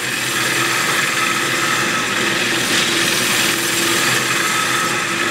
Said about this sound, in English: I'm going to hollow this out with this small cutter